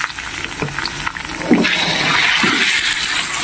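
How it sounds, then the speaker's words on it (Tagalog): Marinated chicken pieces go into a hot pan with dry chili for a stir fry with peanuts, setting off a loud, close sizzle with a few bursts of splatter and scraping. "Lalagay na natin yung chicken na ating minarinate."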